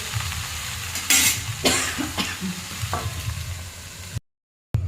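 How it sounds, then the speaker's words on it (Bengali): Pumpkin greens frying in a pan are stirred, with a steady soft sizzle broken by a few scraping stir strokes, close and alone before a brief dropout. "এই শাকটা একটু নাড়াচাড়া দিয়ে আমি কিছুক্ষণের জন্য ঢাকা দিয়ে দেবো।"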